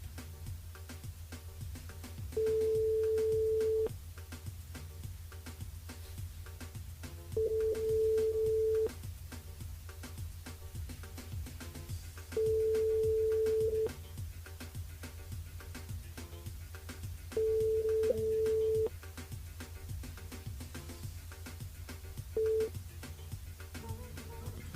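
A telephone busy tone sounds during an unanswered call to a radio station switchboard. Four steady beeps repeat at even intervals over a low hum, followed by a short fifth beep.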